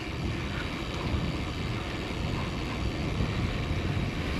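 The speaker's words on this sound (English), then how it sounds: "It's a little bit windy today, in fact." Constant roaring wind noise buffets a GoPro Media Mod microphone with windscreen while cycling, a dense low rumble that stays loud and unbroken throughout.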